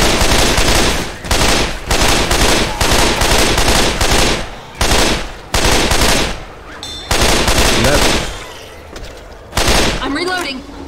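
Loud, sustained automatic gunfire in Left 4 Dead 2, dense bursts of rapid shots separated by brief pauses, close and dominant throughout.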